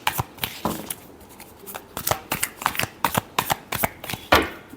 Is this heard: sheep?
no